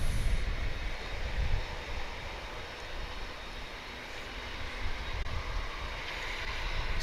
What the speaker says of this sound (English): This is a UPS flight 2785 on its way to Louisville